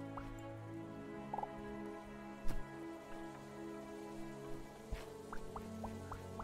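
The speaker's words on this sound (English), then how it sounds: "Whoa, is it acid rain?" Acid rain falls in the video game Starbound as a soft, steady patter over a droning game ambience, with scattered light drips and a few sharper plinks near the end, and no voices.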